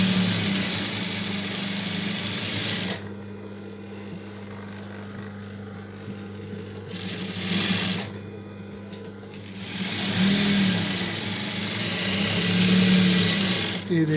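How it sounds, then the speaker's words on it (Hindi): A sewing machine stitches a baby suit in bursts of steady, rapid whirring, running for a few seconds, pausing, then starting again for longer runs at close range. "इस पे हम एक साइड में एक सिलाई भी कर लेते हैं"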